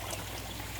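Water pours in a cave as a brief, steady trickling stream, moderately loud and close, with no talk over it.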